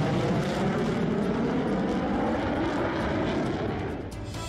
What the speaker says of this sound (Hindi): ये भी एक साथ टारमैक पर टहलते हुए निकलते हैं और फिर F-16 की उड़ान भी शुरू हो जाती है।